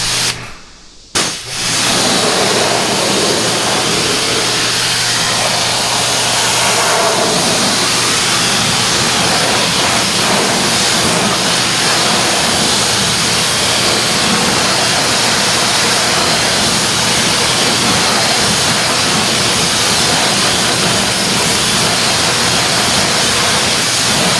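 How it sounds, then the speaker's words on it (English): A car wheel and tire on a ceramic coated Corvette sprayed down with water, a loud, steady hissing rush close by that runs continuously after a brief pause near the start. "we're going to go ahead and rinse everything off now."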